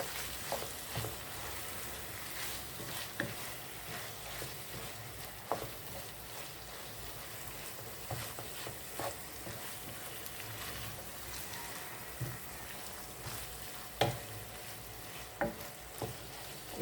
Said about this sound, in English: I'm just gonna stir that around, let it melt.